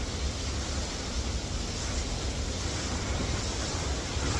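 A waterfall pours as a constant, dense wash of rushing water, steady and unbroken, fairly loud and with no voices over it.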